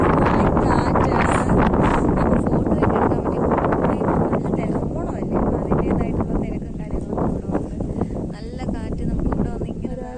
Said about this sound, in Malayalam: എന്തൊരു കാറ്റ് ഇവിടെ